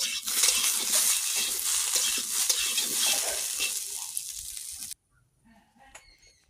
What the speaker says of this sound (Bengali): এই যে সয়াবিন আর আলুটাকে ভেজে নিচ্ছি।